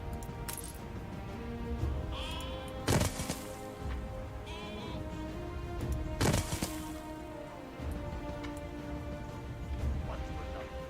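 Several sheep bleat in turn in the video game Anno 1800, wavering calls repeating over a soft ambient backdrop with occasional sharp clicks and clinks, the voices fairly close and clear.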